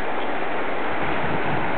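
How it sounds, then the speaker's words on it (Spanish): The Concavito river in a high mountain canyon at about 4,200 metres, its clear water rushing as a steady, close, dense wash with no voices over it. "Por acá está el río Concavito,"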